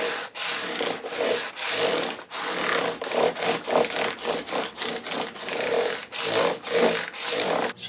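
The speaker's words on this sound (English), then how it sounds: "there's our first pass with 600 grit" Guitar frets on a PRS being sanded with 600 grit abrasive: a steady run of rhythmic back-and-forth rubbing strokes, close and even, with brief pauses between passes.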